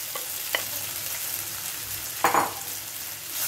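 Leftover rice being stir-fried with onion and green chili, a steady soft sizzle with a couple of brief scraping stirs, one louder stirring burst near the end, close by with no talk.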